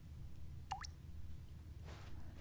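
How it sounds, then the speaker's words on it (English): Water drips once into a hollow, echoing empty space in The Stanley Parable, a single clear plop with a gliding pitch over a steady low hum, followed later by a faint hiss. "some water dripping."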